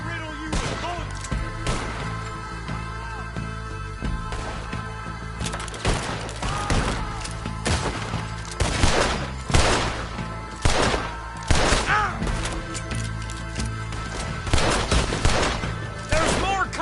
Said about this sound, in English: I'll riddle you with bullets!